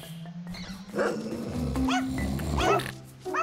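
Small dogs yip, bark and growl in quick bursts over a steady low electronic hum, sounding like playful puppies in a game.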